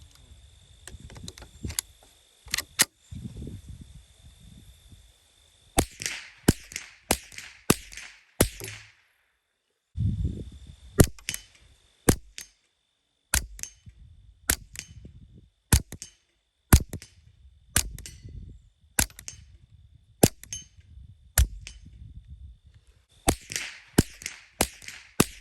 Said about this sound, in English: here's 5 full power 40 grain Federal box bulk ammo